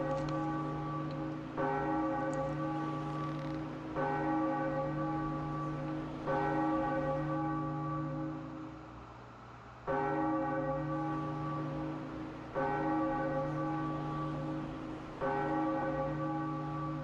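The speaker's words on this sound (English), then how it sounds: "So let's ring this huge bell and see what happens." Huge bell in The Legend of Zelda: The Wind Waker tolls repeatedly, seven deep resonant strikes roughly every two to three seconds, each ringing out with long sustained overtones over a steady low drone, loud and alone with no talking.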